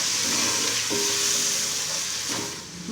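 Red chili powder, turmeric and salt fry in hot oil for kadhi pakora, a steady loud sizzle and hiss throughout, with faint stirring scrapes and no talk.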